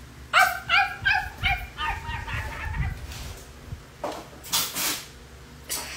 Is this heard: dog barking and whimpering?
yes